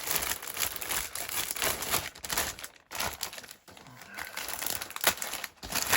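Loud, close crinkling and rustling of a plastic bag as sprues from a Hobby 2000 A-10 plastic model kit are pulled out, continuing steadily with brief pauses.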